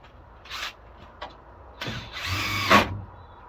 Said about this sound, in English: The long screw going in there, a 100mm screw